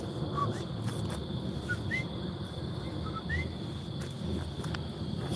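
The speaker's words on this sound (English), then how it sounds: "I don't know if you can hear the crickets." Crickets chirp steadily at night in a park, a faint, constant high trill with a few brief whistle-like bird or insect calls scattered over a low background hum.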